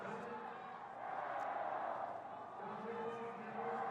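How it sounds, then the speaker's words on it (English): A crowd cheers at a Paralympic para cross-country skiing open relay in Beijing, a broad, distant roar of spectators under a commentator's voice. "China getting a big cheer"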